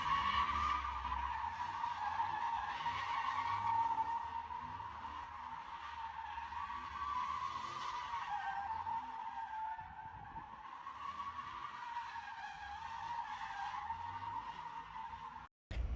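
A car spinning donuts on a public road, tires squealing and skidding in a long continuous wail that rises and falls in pitch as it circles, moderately distant with engine noise underneath and no voices.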